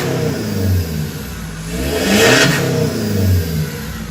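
Mitsubishi Pajero Dakar engine revved to high RPM, its turbo audible, rising in a loud sustained surge that swells and eases back, close up and steady, with no talking.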